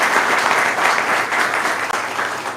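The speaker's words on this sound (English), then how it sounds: "Let's give her a round of applause as" Outdoor audience at a botanical gardens groundbreaking ceremony giving a loud, sustained round of applause, dense and steady clapping with a faint voice or two mixed in.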